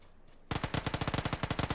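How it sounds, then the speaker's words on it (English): Rapid bursts of suppressed gunfire in a multiplayer shooter video game, a dense run of about fifteen evenly spaced muffled shots starting abruptly after a brief quiet moment, loud and close. "Shots behind, up on north of us. They're silent. The suppressor to north of us."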